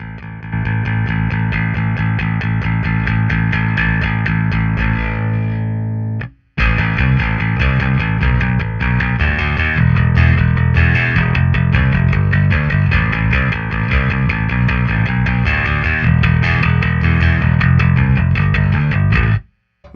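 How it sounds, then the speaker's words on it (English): A bass guitar played through a Carvin BX1500 amp with the overdrive cranked gives steady, loud sustained notes with only mild grit. It fills the whole span with one brief break near the middle and no talking. "Even when I hit the front end as hard as I possibly can, there isn't a whole lot of distortion going on."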